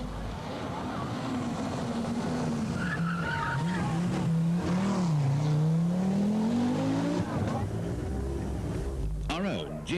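A 340-horsepower Audi Quattro rally car skids hard, its engine note sliding up and down with loud tire scrubbing and gravelly noise, with a commentator talking over it throughout.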